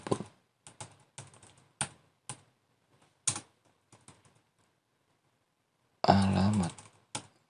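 Scattered bursts of computer keyboard typing, short clusters of key clicks separated by pauses, with a brief stretch of speech near the end.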